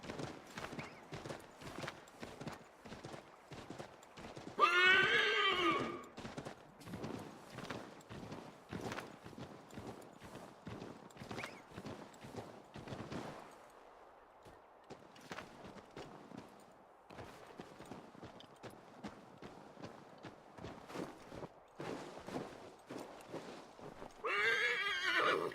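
A horse in the Assassin's Creed 3 video game trots with rapid, rhythmic hoofbeat clip-clops, and loud neighs ring out twice, near the start and at the end, over quieter game ambience.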